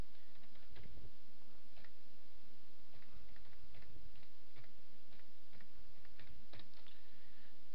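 Keys clacking on a computer keyboard in irregular bursts of taps, close and fairly quiet against a steady low hum, with no talking.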